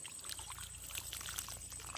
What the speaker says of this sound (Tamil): இப்போ நடுறதுக்கு வந்து தண்ணியை ஊற்றுவோம் முதல்ல